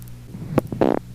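Short bursts of flatulence from a person seated in a chair at a family Christmas gathering: a quick sharp pop followed by a louder buzzing blast, close and brief, without speech.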